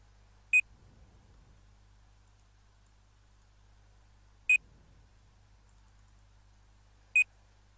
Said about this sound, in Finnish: Anteeksi toi piip ääni, jos se kuuluu teille